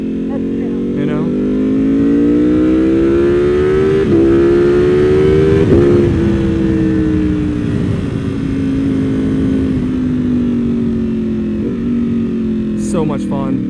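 A Ducati Panigale V2 Bayliss sport bike engine drones steadily while being ridden on a back road, its pitch rising and falling through gear changes, loud and continuous close to the rider with some talk underneath.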